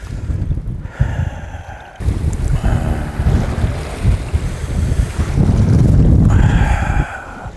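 A strong headwind blusters across the microphone on a fishing boat at sea in winter, with loud, continuous buffeting roar, water slapping and engine rumble beneath, gusting harder toward the end.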